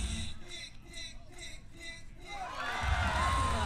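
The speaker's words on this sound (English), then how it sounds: "Well, she's getting the crowd pumped up now." At a 2014 outdoor disc dog competition, the home crowd's distant cheering and whoops swell suddenly near the end, while a commentator talks over the quieter opening.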